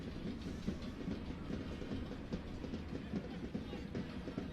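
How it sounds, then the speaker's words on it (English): Steady rumble and clatter of a train running just south of an outdoor soccer stadium, the rolling wheel noise continuous and fairly loud throughout with no voices. "That train that runs right south."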